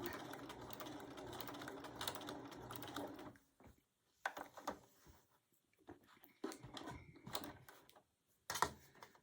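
A sewing machine stitches a sawtooth quilt block, a quiet steady whirring run for a few seconds, then several short stop-and-start bursts of stitching with pauses between.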